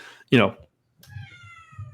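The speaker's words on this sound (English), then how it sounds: "Is that my cat?" A house cat meows, one loud sharp meow near the start and then a second drawn-out, tonal meow, with a low background hum present throughout.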